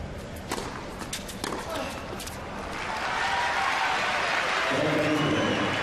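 Tennis crowd at a 2006 Madrid semifinal, loud and continuous, with sharp claps and noise at first, then building into a sustained roar of cheering and applause that swells toward the end.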